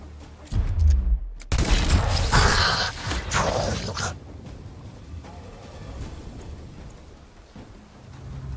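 Pistol fire in the Gears Tactics video game, with a loud burst of gunshot blasts in the first few seconds followed by a quieter rumbling background with no further shots.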